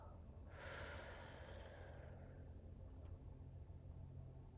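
A single long, soft exhale of breath is heard close by, rushing out near the start and trailing off quietly over a low background hum.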